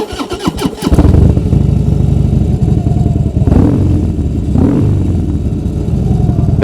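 A 2014 Harley-Davidson Fat Bob with S&S mufflers and air cleaner cranks and fires up, then settles into a loud, lumpy V-twin idle close by, with two quick throttle blips partway through.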